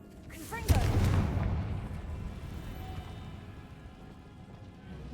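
A Confringo spell cast in a Harry Potter video game as a Ravenclaw student: a sudden, loud fiery blast that booms and then rumbles and crackles away into a fading, rain-like hiss.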